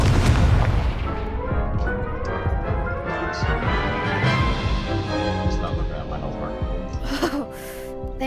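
Confringo blasting spell explosions in the Hogwarts Legacy game, a loud booming burst at the start followed by dense crackling impacts and game effects, with a voice gasping and talking mixed in.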